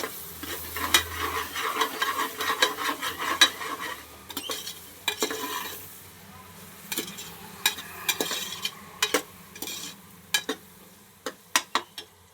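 Spoon stirring red chili powder and garam masala into undhiyu in a frying pan, steady scraping and sizzling at first, then a run of sharp clinks against the pan getting louder toward the end, with no talk.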